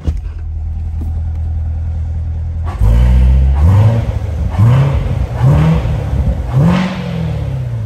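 A 2017 Corvette C7 2LT with a seven-speed manual idles quietly, then barks louder and is revved repeatedly, four or five rising-and-falling blips with a deep throaty rumble, close and loud.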